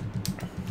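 Quick keystrokes on an EZ Eyes keyboard, a rapid series of about eight close, dull plasticky clacks in an uneven typing rhythm, with no voices.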